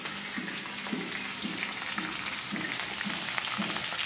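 Curry leaves, ginger and green chilli sautéing in a pan for vindaloo, a dense steady sizzle with rhythmic stirring strokes about every half second, close and without voices.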